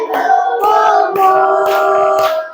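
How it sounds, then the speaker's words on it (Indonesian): Hands clap in a steady beat, about two claps per second, under loud singing of an Indonesian patriotic song close by. "Sambil tepuk tangan, minta tepuk tangan"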